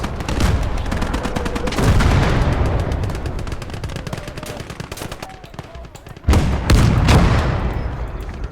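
Heavy artillery and gunfire boom in a World War II battle game set between D-Day and the Rhine, loud overlapping blasts with dense crackling shots and a few voices.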